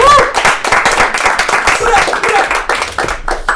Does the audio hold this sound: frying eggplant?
no